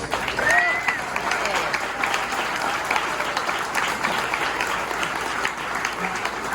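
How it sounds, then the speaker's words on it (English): Audience applause at a Tennessee political gathering, the Burgers & Brews event, steady dense clapping from a crowd sustained throughout, loud and near. "Let's give them a round of applause."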